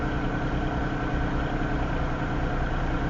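A Norfolk Southern locomotive idles south of Elkhart, Iowa, its big diesel engine giving off a steady, loud, low rumble that holds constant throughout with no voices.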